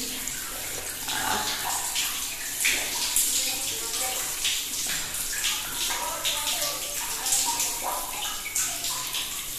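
Water pours steadily over a person's body during a bath, a continuous close splashing gush with small fluctuations, while someone talks over it.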